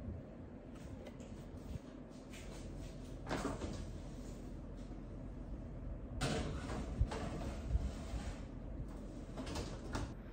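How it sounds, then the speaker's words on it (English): An oven door thumps shut as a cake batter goes in to bake, with a couple of distinct clunks over a quiet kitchen background and no talking. "Now we put it in the oven."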